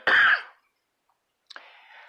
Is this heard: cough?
yes